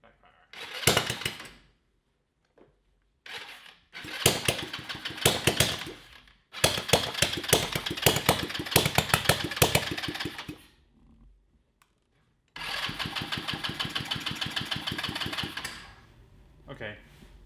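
A cheap GY6 engine in a Yerf Dog Spider Box go-kart, just fitted with a new ground cable and suspected of lacking fuel, sputters through several loud bursts of rough, rapid firing separated by silent gaps.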